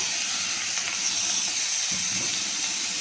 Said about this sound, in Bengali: পেঁয়াজটাকে একটু নাড়াচাড়া করে নিলাম তো পেঁয়াজটাকে একটু ইয়ে করে ভেজে নিয়েছি